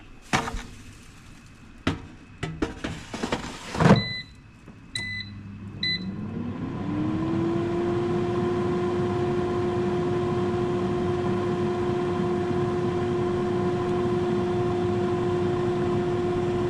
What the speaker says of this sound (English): put it back into the air fryer for another 30 minutes. And back into the air fryer we go.